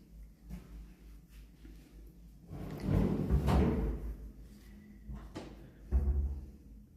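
Drawers beneath a washing machine and dryer in a flat's laundry area, sliding open or shut with a rumbling run in the middle and a shorter thump near the end, fairly close, with no talk.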